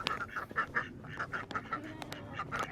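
A group of ducks quacks close by in quick, uneven bursts, the calls overlapping, at a moderate level with no talking.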